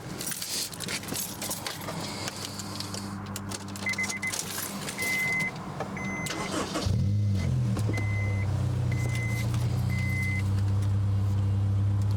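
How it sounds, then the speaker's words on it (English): Keys jangle close by, then a 2001 Honda S2000's engine catches and settles into a low, steady idle rumble while a soft electronic chime beeps at intervals. "I'm gonna hop in the car, turn it on, and just let you guys hear it"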